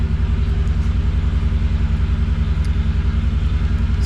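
A Pontiac 6000 all-wheel-drive car idles nearby, a loud steady engine rumble with an even pulsing throb and no voices.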